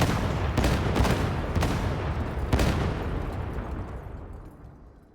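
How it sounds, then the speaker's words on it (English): A cluster of grenades from the Ogryn's Bombs Away ability in the video game Darktide explodes in a rapid string of heavy booms. The blasts overlap into a loud rumbling barrage that fades out over a few seconds. "Instead of having one, you have 6 grenades, and it has great AoE."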